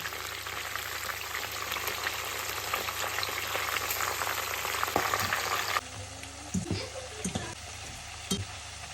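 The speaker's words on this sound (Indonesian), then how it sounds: "ini gorengan pertama si ayam" Pieces of chicken frying in hot oil at home for a meal with sambal, a dense steady sizzle and crackle close by, dropping to a quieter bubbling partway through with a few light clinks.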